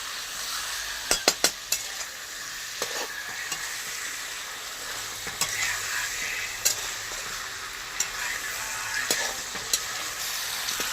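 A full kilo of fresh chicken frying in a pan during a village-style kosha cook, with continuous sizzling and sharp metallic scrapes and clinks of stirring, several close knocks near the start; no voices.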